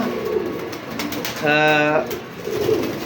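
Racing pigeon cooing nearby, a short resonant burst of stacked coos in the middle, with background room noise and faint voices around it.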